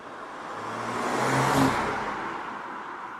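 BMW M340i with six-cylinder petrol engine in sport shifting mode, revving and accelerating; a steady rising engine drone swells to a peak mid-clip, then eases slightly while staying loud.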